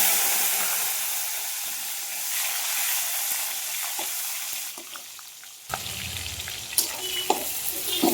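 Tomato hits hot oil already seasoned with cumin seeds and bay leaf, giving a loud, steady sizzle that hisses on, then a clatter of stirring and a few utensil knocks as frying continues.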